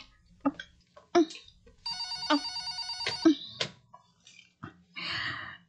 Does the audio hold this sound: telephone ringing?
yes